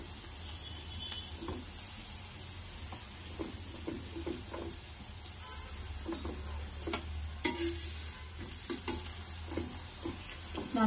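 A paratha of mixed wheat flour, besan and makki atta roasts with ghee on a hot griddle, giving a soft steady sizzle with light crackles and occasional scraping ticks.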